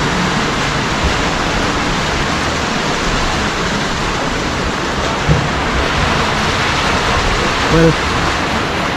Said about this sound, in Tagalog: pero panang ulan diri.